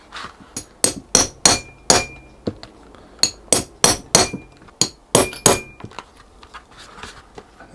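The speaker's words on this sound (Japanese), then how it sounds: "太めの穴を開けます。" A hammer striking a punch to make holes in shoe leather, loud close metallic taps in quick bursts of three to five blows separated by short pauses, with a faint ringing after each strike.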